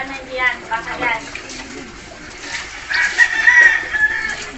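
Chickens cluck nearby in short bursts while people talk, with a splash of water being poured partway through.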